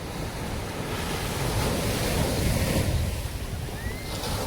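Surf rolls onto Miramar beach in Goa, a continuous close wash of breaking waves that swells slightly in the middle, mixed with wind noise on the microphone.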